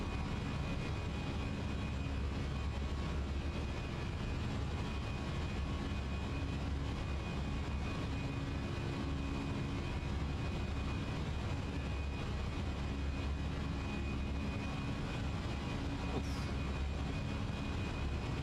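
Airbus A320 with sharklets at climb thrust in a flight simulator, heard as a steady, loud broadband engine roar with a low rumble that holds constant throughout, with no talk.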